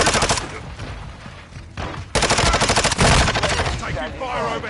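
Rapid bursts of automatic gunfire rattle through a Call of Duty team deathmatch on the Shipment map, loud and close, with bursts broken by short pauses and some faint game voices mixed in.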